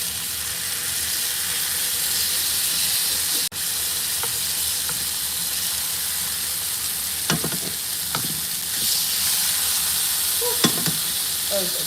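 A sirloin steak sizzles hard in a hot pan, giving a loud, constant hiss close by. A few light clicks and scrapes from turning or stirring break through it, with no talking.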